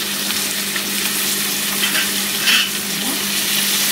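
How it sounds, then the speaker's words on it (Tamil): Small and large onions with green chilli sauté in a pan for prawn gravy, a loud, close, steady frying sizzle with stirring scrapes and a brief clink near the end. "எல்லாத்தையும் போட்டு நல்லா வதக்கி விட்டுக்கலாம்"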